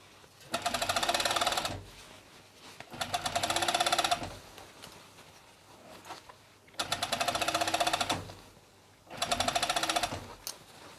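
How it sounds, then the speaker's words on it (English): An overlocker stitches ribbing cuffs onto a hoodie in four loud, steady whirring bursts of a couple of seconds each, separated by short quiet pauses. There is no talking. "I start pulling the ribbing slightly as I sew."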